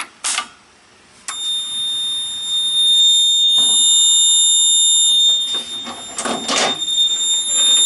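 A fire alarm panel's loud, steady electronic alarm tone blares continuously after a brief mechanical click from a pulled pull station, with rattling mechanical noises near the start and end.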